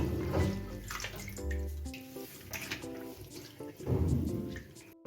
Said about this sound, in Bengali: জল পাল্টে পাল্টে ভালো করে ধুয়ে নেব